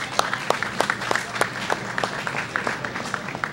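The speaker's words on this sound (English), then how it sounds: "Spectators, let's send these ladies off with a big round of applause." Spectators at the Team USA bowling trials applaud women bowlers, a short burst of scattered hand claps in an indoor bowling centre, fairly close and irregular, with a few sharp individual claps standing out.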